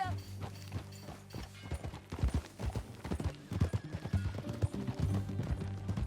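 Horse hooves clip-clop at a gallop in Red Dead Redemption II, a rapid, uneven beat of hoofbeats close by under a low tonal background, with a possible snort or whinny.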